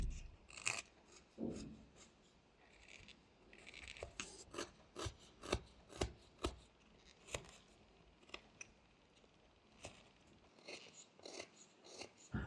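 A knife whittles a small wood bear figure, giving quiet close scraping and shaving strokes in irregular short bursts, some sharper cuts standing out from the soft rasping.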